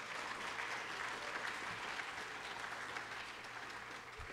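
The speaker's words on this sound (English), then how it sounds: "Please give them a round of applause." Steady applause from a crowd at a high school distinguished graduate ceremony, filling the whole stretch at moderate volume and tapering slightly toward the end.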